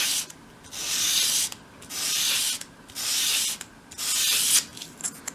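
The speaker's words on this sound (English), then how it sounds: "hold the piece at a 45-degree angle against your sandpaper and sweep it towards you" A small wooden piece for a 1/12th scale dolls house bedside cabinet is swept across sandpaper at an angle, four even rasping strokes with short pauses between, close and clear.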